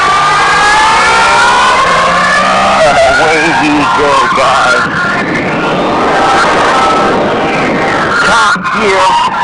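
A Triumph motorcycle engine pulls hard near 6,000 RPM at about 80 miles per hour, a loud, continuous rising and falling drone with heavy wind rush, and a rider speaking over it.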